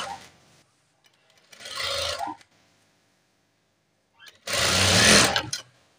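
A sewing machine stitches nurse uniform pants in two separate runs, a short burst and then a longer, louder one, with quiet pauses between and no talk.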